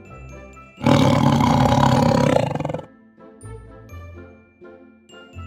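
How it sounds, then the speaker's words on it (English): A loud, sustained tiger roar rumbles for about two seconds, standing alone between quieter stretches of background tones. "The sound of tigers"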